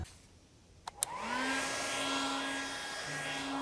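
A hairdryer wired straight into the contacts of a lamp socket clicks on with two sharp snaps, then spins up into a steady, loud whirring roar that holds to the end, with a low hum joining near the close.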